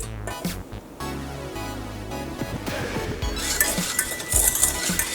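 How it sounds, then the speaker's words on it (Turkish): A whisk beats 4 egg yolks with sugar in a bowl, clinking and scraping against the sides in quick, irregular strokes, close and fairly loud with no speech. "4 adet yumurta sarımı şekerle bir miktar çırpacağım"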